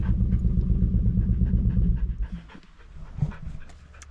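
An excited dog pants close by in quick, steady rhythmic breaths that ease off and grow quieter near the end, with a low rumble underneath and no voices.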